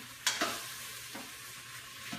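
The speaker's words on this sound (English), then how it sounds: "And you don't even really have to brown the meat." Beef browns in a slow cooker pot for a Thai stew, a steady bright sizzle with a couple of stirring scrapes near the start, close and continuous.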